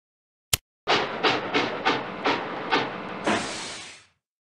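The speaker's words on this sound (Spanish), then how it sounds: "Jorge está jugando con sus trenes." A sharp click, then a small toy train rattles along with a steady clickety-clack rhythm, ending in a hissing rush before it cuts off.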